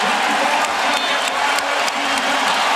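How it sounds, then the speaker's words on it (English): Large basketball arena crowd cheering and applauding at a playoff game, a loud, dense, continuous roar with whoops rising through it, sustained for the whole stretch. "here comes the crowd. They've been silent all afternoon"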